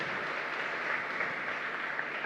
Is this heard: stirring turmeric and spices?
no